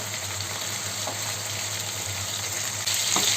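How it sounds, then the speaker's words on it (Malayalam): Chicken pieces fry in a pan for biryani, a steady close hiss of oil with a couple of soft scrapes as pieces are turned, and the sizzle grows louder near the end. "ഒന്ന് രണ്ട് വശവും ഒന്ന് വറുത്തെടുക്കുക"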